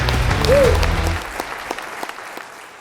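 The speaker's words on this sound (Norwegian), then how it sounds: "Gi de en hjertelig stor applaus." An audience at a startup and sustainability panel event applauds: a full burst of clapping that thins out into a few scattered claps and fades, with a voice briefly heard at the start.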